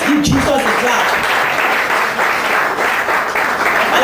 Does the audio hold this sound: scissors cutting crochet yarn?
no